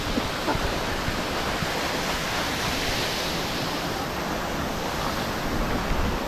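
River water rushing near Tousuvan Falls in Magpet, a dense, steady roar of flowing water heard up close with no voices over it.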